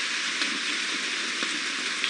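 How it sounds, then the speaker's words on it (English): Steady rain falls on an African safari drive, a dense, even hiss with no voices. "It seems like the rain is just slowing down a little bit"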